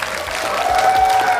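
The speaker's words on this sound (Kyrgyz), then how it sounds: "Кол чабуулар менен Алимранды узатабыз." Audience applause at a televised children's talent show in Kyrgyzstan, a dense, steady clapping that swells slightly and carries on throughout, with no speech over it.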